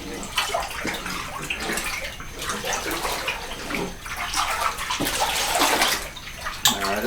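Laundry and soap being churned in a tub of water with a hand-held agitation stick during a power outage, giving continuous close sloshing and splashing with surging swells and no talk.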